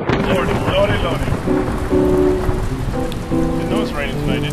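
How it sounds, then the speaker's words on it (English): Heavy rain pours steadily on surfaces outdoors at night while thunder rumbles low underneath, a dense, continuous wash of drops with a deep roll in the background and faint voices behind it. "Didn't know it's raining tonight, did you?"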